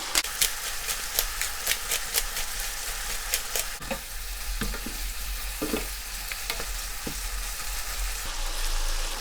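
Pepper shrimp stir-fry in a hot pan while the sauce reduces, giving a close, steady sizzle broken by sharp crackles and the scrape and clatter of stirring, with no talk.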